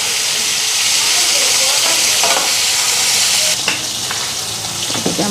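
Spice masala sizzles and fries in a hot wok (kadai) after fish pieces were fried, with a steady hiss and scraping stir strokes near the end, close and fairly loud.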